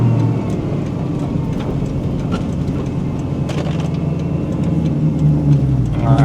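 A 1994 Ford Mustang on a test drive, its engine humming steadily from inside the cabin with gentle rises in revs and road noise, continuous and fairly loud.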